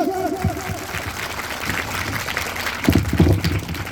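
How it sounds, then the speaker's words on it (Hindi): A crowd at a panchayat speech event in Jharkhand claps steadily, moderately loud, with a microphone hum and a few low thumps and bumps mixed in. "एक बार जोरदार ताली बजाया जाए, जोरदार तालियों के साथ"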